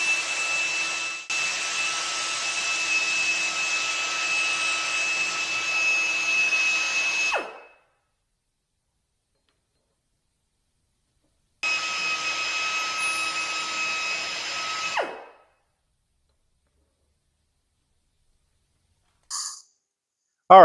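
A drill with a carbide bit reams extremely hard metal on a Chevy Tahoe pinion job, whining steadily in two long runs separated by silence, followed by a short burst at the end.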